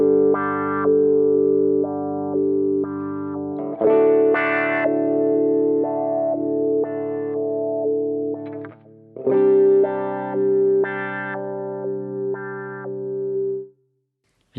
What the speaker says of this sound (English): If we assign this to our wah block, it'll sound like this.